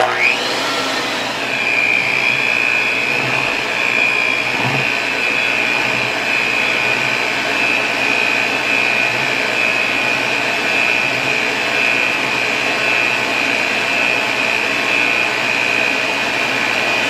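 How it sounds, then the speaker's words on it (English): Electric mixer running on low while mixing cake batter: a steady, loud, close motor whir with a constant high whine, starting abruptly and holding evenly throughout. "Now we're going to turn our mixer on low and slowly add the egg whites"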